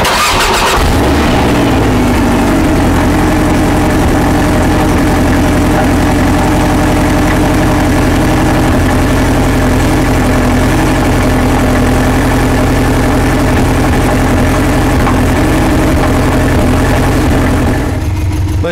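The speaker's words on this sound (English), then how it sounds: "let's do a cold start on the Porsche" A Porsche cold-starts: a quick crank catches into a loud, high flare, then settles into a steady, throbbing idle held close and alone for the rest of the run.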